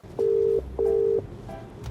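Telephone ringback tone during a call: two steady beeps about 0.4 seconds each with a short gap between, clear and close over low room noise, then a faint trailing tone.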